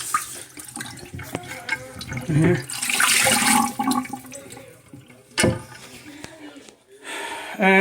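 Leftover water is poured out of an American Standard Champion toilet tank during a flush valve replacement, a loud rushing splash and gurgle in surges, with a person speaking briefly.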